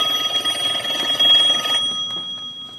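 A telephone bell rings in quick repeated bursts for under two seconds, fairly clear against a quiet room, then stops abruptly.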